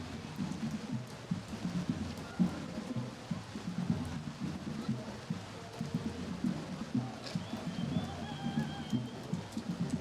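Steady rain falls outdoors during a Labor Day parade in Marlborough, a dense continuous patter and hiss with a low, rumbling bed underneath, fairly even in loudness throughout with no talk.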